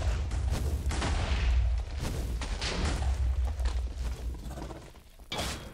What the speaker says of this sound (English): Oh, that's a big explosion.